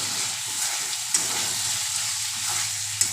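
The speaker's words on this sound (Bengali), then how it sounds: "এবার ভালো করে গরম মশলাটা চিনিটা পটলের সাথে মিক্স করে নিব।" Sliced pointed gourd is tossed with garam masala and sugar in a hot pan, giving a loud, steady sizzle with rhythmic scraping stir strokes and a couple of sharp utensil taps.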